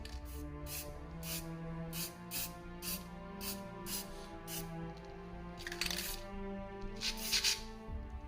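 A spray can sprays black paint onto Suzuki Fiero motorbike parts in short repeated hissing bursts, about a dozen rhythmic blasts close by, with some rubbing handling noises between them and no talking.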